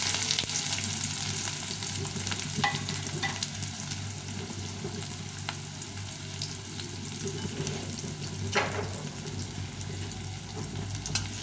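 Chopped onion frying in hot oil with dried red chilli and cumin, an even, moderately quiet sizzle with a few stirring scrapes and a low steady hum beneath, no speech.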